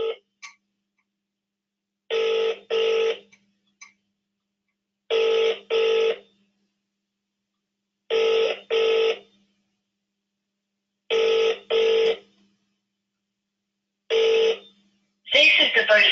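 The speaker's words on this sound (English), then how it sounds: "let's get on the phone." An outgoing call on a UK phone, with Vodafone named as the network, rings back in five clear double-burr pairs separated by silent gaps. A brief rustle of noise follows at the end.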